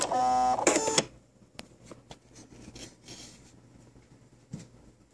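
A sewing machine runs a short reverse stitch at a dress hem seam, one loud buzzing whir about a second long, followed by quiet handling and fabric rustle.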